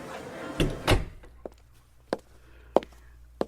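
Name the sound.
door closing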